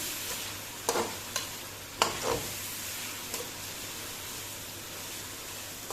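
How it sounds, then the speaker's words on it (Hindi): Onions and meat frying together for Uzbek pulao, with a steady sizzle under a few sharp scrapes of stirring near the start, then mostly an even hiss. "अब हम इसको गोश्त के साथ ही मिलाकर खूब अच्छा सा फिर फ्राई करेंगे साथ में।"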